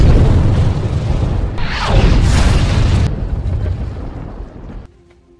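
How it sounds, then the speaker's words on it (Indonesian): Explosives in a bag detonate in a film action scene, a loud, heavy boom with a rushing burst that rumbles for a few seconds and then fades out. "Dan dengan cepat meledakkan bahan peledak yang ada di dalam tasnya."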